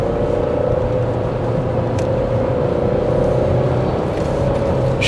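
A new Dacia Duster Full Hybrid 140 being driven gives a steady, loud cabin hum, with engine drone and road rumble holding even throughout.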